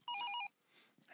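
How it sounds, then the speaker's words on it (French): A telephone rings in a quick burst of bright, repeating electronic tones, loud and close, then cuts off into near-silence with faint rustling afterward. "Un autre appel."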